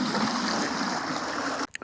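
A 50-50 mix of 40% liquid peroxide and water pours from a bucket into a pot, a steady close splashing gurgle that cuts off abruptly near the end.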